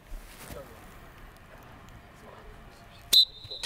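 A single sharp, shrill whistle blast starting a football training drill at AS Monaco's academy cuts through after a few seconds of quiet outdoor ambience and faint wind.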